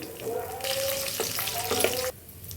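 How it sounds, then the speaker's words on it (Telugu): Loud crackling sizzle as chana dal, mustard seeds, cumin and garlic hit hot oil in a pan, bursting up sharply then cutting off after about two seconds; no talking. "ఇదిగండి అదే ప్యాన్లో పోపు వేయాలండి."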